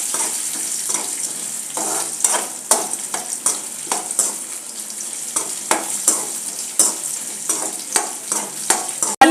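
Garlic and urad dal fry on a low flame while a spoon stirs and scrapes the pan in regular clacks over a soft background sizzle, close by and without talk.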